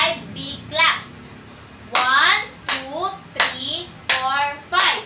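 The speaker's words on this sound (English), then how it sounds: "let's do five big claps" A primary-grade class of children claps loudly in unison five times in a steady rhythm, while the children count aloud between the claps.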